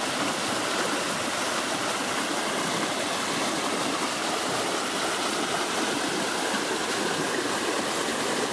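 Steady broadband rush of a river flowing along a district border in Serang, Banten, continuous and fairly loud close by, with no voices over the water.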